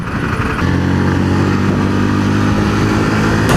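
A scooter engine heard while riding, a close, loud, steady droning hum that settles into an even tone after a brief rise, with wind noise and no talk.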